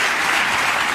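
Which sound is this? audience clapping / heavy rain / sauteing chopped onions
audience clapping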